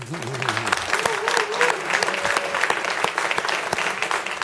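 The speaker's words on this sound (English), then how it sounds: "give them a round of applause" An audience at a city council meeting applauds a speaker's family as they stand, a steady, fairly loud wash of clapping that fills the room, with a voice briefly audible at the start.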